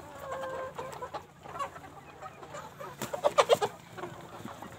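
Desi chickens clucking on a poultry farm, several birds calling in short irregular bursts that grow louder and busier toward the end, over a steady low background hum.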